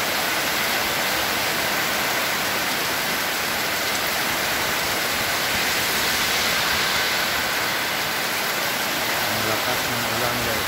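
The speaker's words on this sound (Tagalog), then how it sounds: "Malakas ng ulan po." A dense, roaring downpour of heavy rain, steady and loud throughout with no letup.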